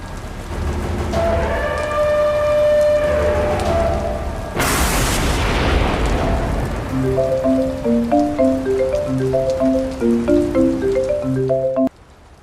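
Heavy rain lashes down during flooding, a loud broad roar that surges with a booming burst midway, under layered melodic music and with no talk.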